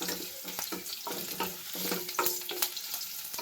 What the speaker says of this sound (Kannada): ಬೆಳ್ಳುಳ್ಳಿನ ಫುಲ್ಲು ಟೋಸ್ಟ್ ಮಾಡ್ಕೋಬೇಕು ಚೆನ್ನಾಗೆ